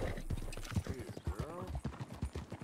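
Horse hooves clop in a steady rhythm with a whinny partway through, in the video game Red Dead Redemption 2, while a person talks over the top.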